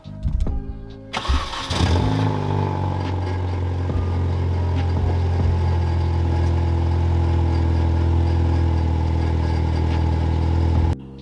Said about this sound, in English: the pipe's disconnected from the back box, so we've ordered a new exhaust system